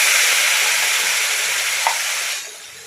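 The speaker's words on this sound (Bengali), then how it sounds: "এদিক ওদিক করে পুঁটি মাছগুলোকে ভেজে নিলাম।" Small puti fish fry in oil with turmeric in a kadai, making a loud, steady, close sizzle with one brief clink before the hiss drops off near the end.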